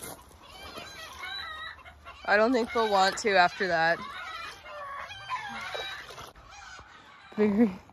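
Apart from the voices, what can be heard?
chickens clucking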